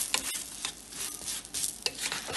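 Aloo paratha sizzling in oil on a hot pan, a steady crackling fry with soft scraping strokes as it is spread and turned.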